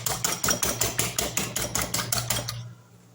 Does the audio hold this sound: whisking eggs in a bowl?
yes